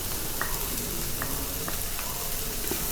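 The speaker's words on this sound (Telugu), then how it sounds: "ఆ గింజలు కూడా దీంట్లో వేసి ఫ్రై చేయాలి కొంచెం సేపు" Bitter gourd and its seeds fry in hot oil with turmeric, a loud, steady, dense sizzle filling the whole stretch, with a few faint utensil clicks against the pan and no talking.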